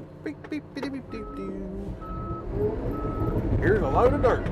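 Three steady, evenly spaced reversing beeps from a bulldozer, heard over a diesel engine rumble, with a person talking briefly at the start.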